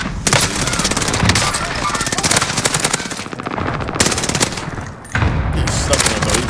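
Rapid automatic gunfire from Call of Duty Warzone on the Caldera map, near and loud, sustained bursts with brief gaps, with people talking over it.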